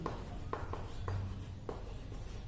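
A pen or pencil writes numbers on paper while a math problem is being solved, heard up close as soft scratchy strokes with a few distinct taps over a low steady background hum.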